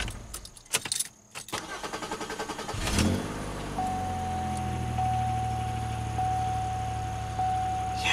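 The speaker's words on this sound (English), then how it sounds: "Extended crank because we had the battery unplugged, so cam crank correlation and stuff." A Pontiac Grand Am V6 with a newly replaced starter cranks for a few seconds, then catches and settles into a steady close idle with a faint whine, after some brief clicks and key jangling.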